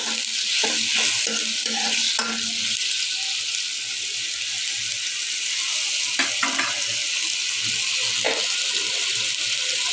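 Green chili and turmeric going into a fish head frying in a pan, giving a steady hiss of sizzling oil with scattered stirring clatters and scrapes throughout, close and continuous.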